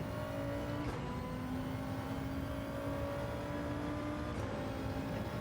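A race car engine drones loudly in Gran Turismo 7 on the Sardegna circuit, holding a steady high whine with two quick dips as it shifts gears. No one speaks.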